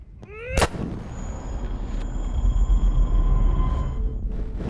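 Gunfire in the Life Is Strange video game. A sharp, loud shot is followed by a deep, rolling rumble and echoing booms that stay close and heavy throughout.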